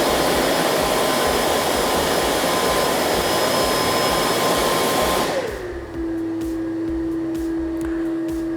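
The fan of a KLIM Pieps Jetforce avalanche airbag pack roars loudly and close for about five seconds. It then winds down into a lower, steady hum with a single sustained tone, and a few faint clicks follow.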